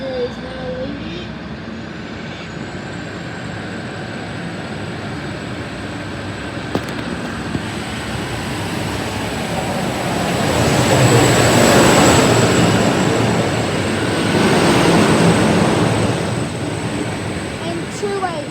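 An Endeavour passenger train pulling out of Bowral station, a loud continuous engine and wheel roar that swells as it gathers speed, with a high steady whine above the rumble.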